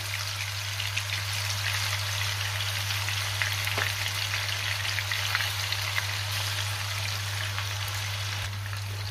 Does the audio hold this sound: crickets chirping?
no